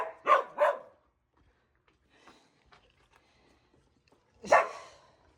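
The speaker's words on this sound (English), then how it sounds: "my dog likes to eat a treat too" A dog barks twice in quick succession, close and loud, then falls quiet before a single bark after a pause.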